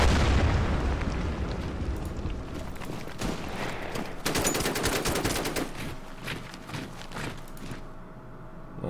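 Heavy wartime gunfire and explosions pound a bunker complex on the Burma Road by the Irrawaddy River in the strategy game Order of Battle: dense bursts, booms and crackling shots overlapping continuously for several seconds, loud and close, with no talking.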